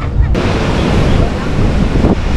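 Water waves washing ashore at Canhugas in Hernani, a loud, continuous hiss and rush of surf close by, buffeted by wind noise on the microphone.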